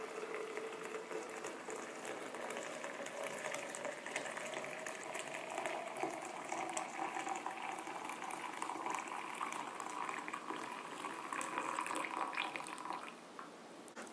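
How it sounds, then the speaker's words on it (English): Hot water poured steadily into a SterlingPro double-wall stainless steel French press, a continuous rushing, gurgling fill that rises slightly in pitch as the pot fills, close and unbroken, with no talking. "I'm now going to pour the hot water in, and I'm going to fill the coffee pot up to within about 1 inch of the top."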